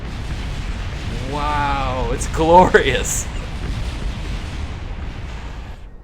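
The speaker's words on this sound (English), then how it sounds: "I know explosions are pretty loud in this game sometimes." Rumbling explosions from the space-flight video game Kerbal Space Program, heard as a loud continuous roar with crackling bursts, while a voice speaks over it.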